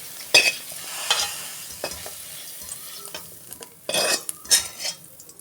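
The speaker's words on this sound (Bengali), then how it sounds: "আলুটা আমি ভেজে নিয়েছি, আমি তুলে নিচ্ছি।" Fried potatoes are lifted out of hot sizzling oil in a pan with a metal spoon, giving a soft frying hiss broken by a few sharp scrapes and clinks against the pan.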